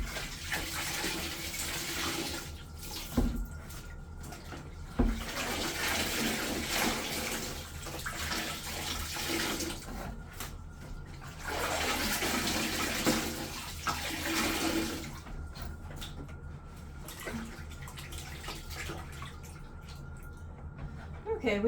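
Dirty wool fleece being swished and rinsed in a bucket of water, close sloshing and splashing in repeated bursts with quieter pauses between.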